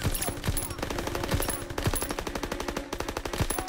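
Rapid automatic gunfire from World War II weapons in the Call of Duty WWII game rattles in fast continuous bursts, loud and close, with little talk over it.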